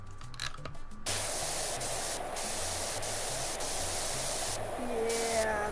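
A pressure washer sprays continuously in the video game PowerWash Simulator 2, a steady hissing jet after a brief quieter start, with short breaks in the stream near the end.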